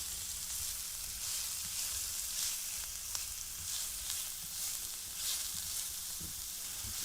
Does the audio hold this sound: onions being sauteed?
yes